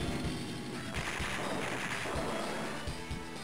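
A tank attacking another tank in the Advance Wars 2 video game: a burst of rapid, gunfire-like blasts and crashing impacts, loud and dense across a few seconds, with game sound effects and no talking.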